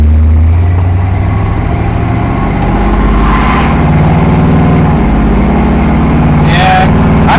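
A brand-new car with around 100 miles on it and an engine not yet broken in pulls away under moderate throttle, its steady low engine drone loud and continuous throughout, with a voice briefly talking over it.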